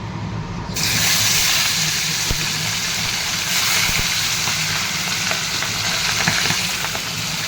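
Tilapia and catla fish fry in hot oil with a loud, continuous sizzle and crackle that starts abruptly and holds steady close by, with occasional spatters and pops.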